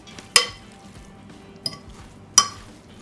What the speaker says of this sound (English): I'm going to stir it up and see what we got.